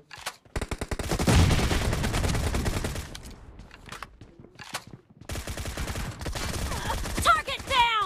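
Rapid automatic gunfire rattles in PUBG, the video game, in dense bursts with brief pauses, loud and close, with a few sharper shots and clinks near the end.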